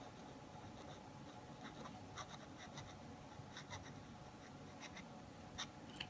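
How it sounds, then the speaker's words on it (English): A Sailor 1911L fountain pen nib writes upside down on paper, producing faint, scratchy, irregular strokes and taps close to the mic against a quiet background. "It is kind of scratchy though, so I wouldn't really look at this pen just to reverse write."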